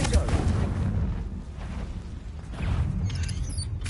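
A deep rumbling boom from a Confringo fire spell blast in Hogwarts Legacy on PS5, sustained low-frequency roar with a swell near the end, loud and continuous.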